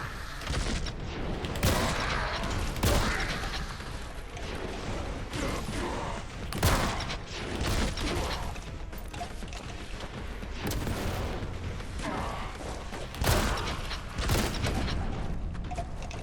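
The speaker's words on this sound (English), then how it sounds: "Brother, bring me the flamer. The heavy flamer." Heavy flamer firing in Warhammer 40,000: Boltgun, repeated loud roaring bursts with sharp blasts and mechanical clatter, dense and continuous combat noise with no talk.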